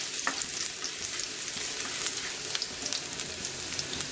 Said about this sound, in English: sliced garlic. We'll just fry this a bit.